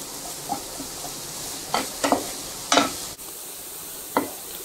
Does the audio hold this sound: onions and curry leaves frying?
yes